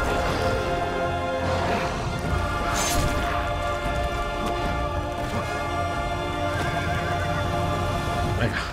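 A horse neighs in the action game Castlevania Lords of Shadow amid busy combat audio. Several whinnies break out over a continuous layer of music, hoofbeats and crashing impacts.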